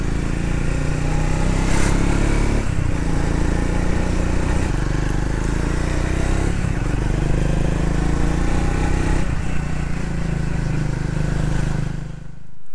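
Triumph Speed 400 motorcycle climbing a mountain road on Apollo Alpha tyres, its engine loud and close throughout, with a few brief dips as gears change and the revs rise again.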